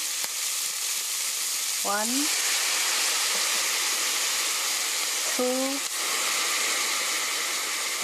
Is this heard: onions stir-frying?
yes